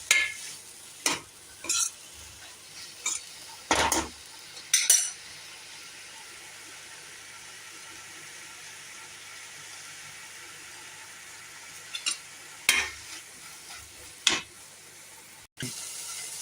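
Mushrooms sautéing in a pan during a mushroom pepper fry, with short bursts of spoon stirring and clinking against the pan over a soft, steady sizzle.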